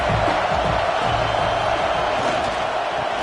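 A stadium crowd roars steadily in a college football video game matchup of Michigan at Nebraska, a dense, loud wash of cheering noise during a third-down red zone play that never lets up.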